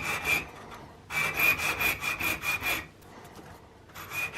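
Yamaha TY50/RD50 Mikuni carburetor body rubbed flat against an old tile, a gritty scraping in repeated strokes, loud and close, in two bursts separated by a pause.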